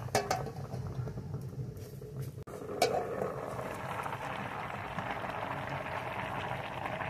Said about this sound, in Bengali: এখন আমি ঢাকা দিয়ে রান্নাটা করে নেব।